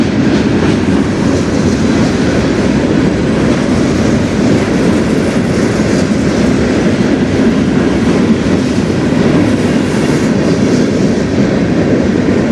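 A freight train with locomotives passes close after emerging from a tunnel: a loud, steady roar of rolling wagons and wheel rumble that fills the whole stretch without a break.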